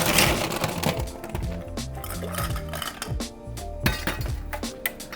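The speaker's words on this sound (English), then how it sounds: "Gonna ice up our mixing glass." Ice cubes clatter and clink into a cocktail mixing glass while a Negroni is being made, a run of sharp close knocks and rattles with no talking.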